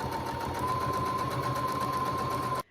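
A sewing machine stitches quilting lines across a bag side panel, a continuous fast mechanical whir with a steady hum, close and even before stopping abruptly.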